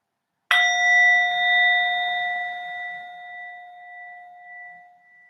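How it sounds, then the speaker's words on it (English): A single bell is struck once to open a mindfulness session and rings out clearly, its bright tone slowly decaying over several seconds in otherwise quiet surroundings. "let's begin with the sound of the bell"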